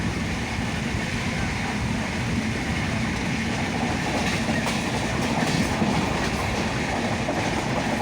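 The Sealdah–Ajmer Superfast Express runs on its tracks at around 110 to 120 km/h, making a steady, dense rumble with rhythmic clatter that holds evenly throughout.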